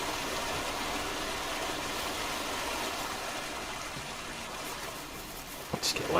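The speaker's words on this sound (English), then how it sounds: "Why does it sound like loud running water up here?" A constant hiss of running water near a chicken coop in Farming Simulator 19 carries on evenly, then fades a little toward the end as a few brief knocks and a voice break in.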